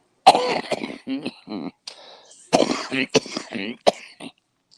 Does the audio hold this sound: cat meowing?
no